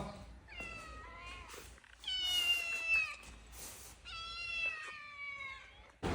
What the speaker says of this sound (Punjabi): ਬਿੱਲੀਆਂ ਮਾਣੋ ਮਾਣੋ ਮਾਣੋ